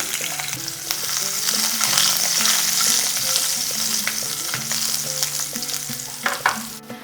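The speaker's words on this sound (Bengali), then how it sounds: "ওই তেলেই ফোড়নে দিয়ে দিচ্ছি গোটা জিরে হাফ চা চামচ, দিচ্ছি গোটা মৌরি হাফ চা চামচ, দিচ্ছি কাঁচা লঙ্কা কুচি, দিচ্ছি রসুন কুচি" Whole cumin, whole fennel seeds, chopped green chilli and chopped garlic fry in hot oil for a Bengali rohu fish dish, a dense continuous sizzle with frequent stirring scrapes and a few sharp clinks.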